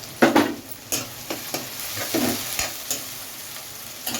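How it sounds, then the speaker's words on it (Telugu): Chilies frying in a pan with tomatoes for sorrel-leaf gongura chicken, a steady close sizzle with a few sharp scrapes of stirring, alone with no talk. "ఇప్పుడు మనం అందులో చిల్లీస్ వేసుకున్నాం"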